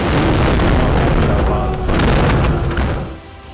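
A heavy explosion booms over a city under bombardment, a loud, dense rumbling blast that fills the whole moment and then tails off quickly near the end.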